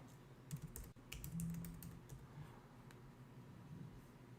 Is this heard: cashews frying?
no